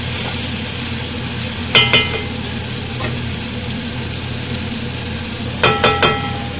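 Mashed eggplant fries steadily in a pan for a bharta, a continuous close sizzle broken by a few sharp clinks of a spoon against the pan.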